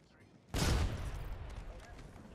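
A sudden burst of gunfire in Apex Legends erupts after a quiet moment, a dense loud blast that trails off into continuing rumble.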